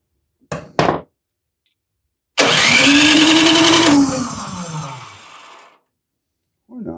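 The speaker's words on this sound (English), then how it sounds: "So if I put the choke on, this thing should start up." Small snowblower engine cranked with the choke on, a couple of short pulls, then a loud sustained burst of revving that sags and fades out without catching, alone with no talk.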